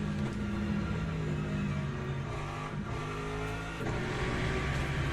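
A race car engine revs continuously in the Le Mans Ultimate sim racing game, a loud, sustained mechanical roar with shifting pitch and brief dips, steady throughout.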